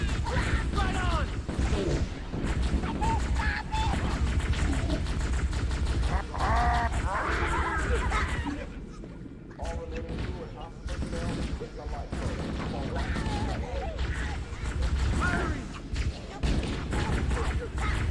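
Gunfire in the original Halo played on an original Xbox: sustained, loud volleys of weapon fire and explosive booms, with voices calling out through the fighting.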